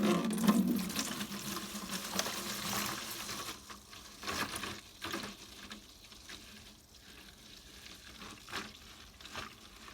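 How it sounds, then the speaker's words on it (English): Evapo-Rust rust remover is poured into a container for blade cleaning, a soft trickling and splashing of liquid that starts steadier and louder, then thins into scattered drips and small splashes, close and quiet. "I'm going to just take some of this and pour it in there"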